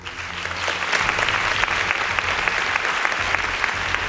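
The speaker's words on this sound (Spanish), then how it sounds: "Os pido un aplauso para ella." A studio audience bursts into steady, full applause for a newly introduced guest on a late-night Spanish television talk show. The clapping swells quickly and holds dense and even for the whole stretch, with no talking over it.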